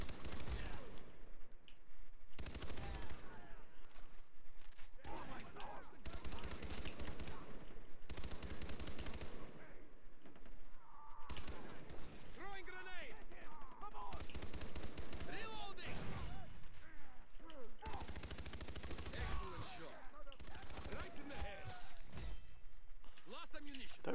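Gunfire in the co-op game Far Cry 3 comes as dense bursts of rapid automatic shots and single blasts, loud and near, with players talking over the shooting.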